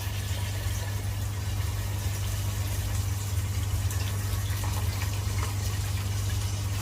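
Water poured into a pan for a Kerala-style venison roast gives a steady, continuous rushing pour over a constant low hum, with no talking.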